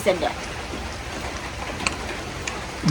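Steady rain falls on a rainy day at a home, a soft continuous hiss with scattered drips and faint ticks, quiet and even throughout with no voices.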